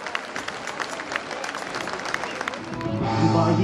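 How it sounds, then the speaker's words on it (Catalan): Applause for the musicians at a folk festival of jota singers and Terres de l'Ebre and Maestrat folk groups, a steady crowd of hands clapping that swells louder toward the end. "aplaudiment als músics"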